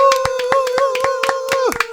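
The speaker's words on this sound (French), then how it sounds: "Applaudissez-la s'il vous plaît." A quiz-show audience claps in a quick, steady rhythm, crisp close hand claps over a sustained musical tone that bends downward at the end.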